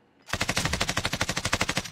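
Rapid automatic gunfire in a video game, a loud close burst of around twenty evenly spaced shots in quick rhythm, no talk.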